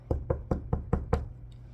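Knuckles rap on the metal hood of a car: six evenly spaced, fairly loud knocks in a steady rhythm, then silence.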